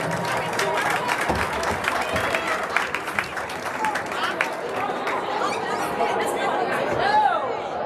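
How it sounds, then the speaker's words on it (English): Sustained applause from an audience at a school winter sports ceremony honouring the 2022-23 freshman girls basketball team, dense and steady throughout, with crowd chatter and a few whistles mixed in. "a big round of applause."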